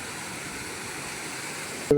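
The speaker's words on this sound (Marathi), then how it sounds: "हा एक छोटासा धबधबा" A small waterfall near a forest house, a steady broadband rush of falling water heard close and continuous, with a brief knock at the very end.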